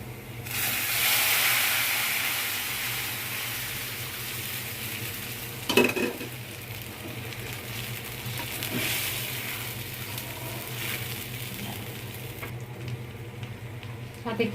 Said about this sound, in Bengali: এখন আমি ডালটা ঢেলে দিব।